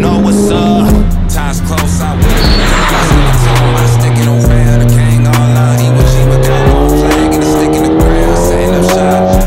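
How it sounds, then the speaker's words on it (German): Race cars at a track day: loud, continuous engine roar with shifting pitch as gears change and cars pass, plus bursts of tire squeal throughout, no talk. "das, was ihr jetzt gerade seht, ist unser Racecar-Spezial, das heißt, wir fahren tatsächlich mal nur Rennautos"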